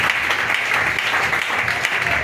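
A church congregation applauding during a sermon, a dense, steady clapping that fills the room without pause.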